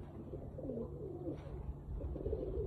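Soft pigeon cooing from a pure-bred Amber Sira fancy pigeon, low murmuring coos repeating a few times at close range against steady background hum.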